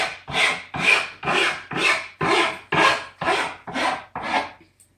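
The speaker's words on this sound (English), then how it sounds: "Today we're going to try a metal file," A metal file rasps across a resin lifecast of a face in nine even, rhythmic strokes, each a close, gritty scrape that swells and fades, with no talking.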